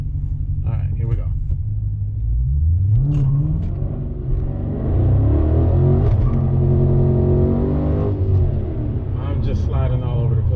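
Dodge Challenger SRT on Continental Extreme Contact DW tires launching hard in a 0 to 60 run, a loud rumbling V8 roar rising through the gears with tire slip, a driver talking over the engine throughout.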